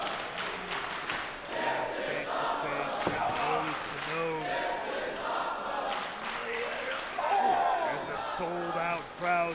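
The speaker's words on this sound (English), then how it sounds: "Crowd here at the Globe in Los Angeles show their appreciation for the war before them" A wrestling crowd at the Globe in Los Angeles roars and cheers during a bout, a steady loud crowd bed with a commentator talking over it throughout.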